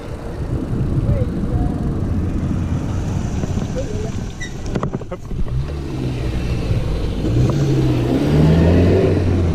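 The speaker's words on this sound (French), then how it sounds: "attention, il y a une voiture" A car drives past on a road along the Avenida Verde Paris–London cycle route, its engine rising and fading over steady wind and road noise, with voices talking nearby.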